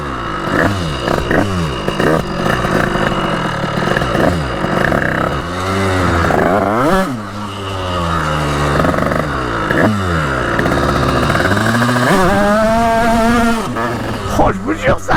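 A poorly tuned motorbike engine with too much ignition advance revs up and down repeatedly, its pitch sweeping in wavering rises and falls, loud and close, with occasional talk over it.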